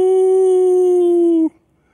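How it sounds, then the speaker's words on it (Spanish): A dog gives one steady, drawn-out howl that stays level and loud and close, then cuts off abruptly and leaves near silence. "A veces aúllan en la noche y le hacen ¡Au! ¡Auu!"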